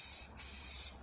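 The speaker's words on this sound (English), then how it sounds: "because I'm spraying silver" A continuous hiss from a can of silver spray paint in a warehouse, close and fairly loud, with one quick break before spraying resumes.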